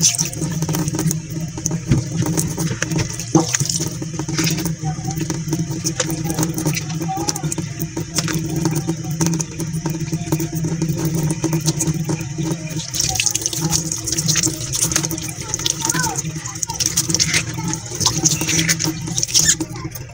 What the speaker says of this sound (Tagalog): Hilamos muna ako ng tubig.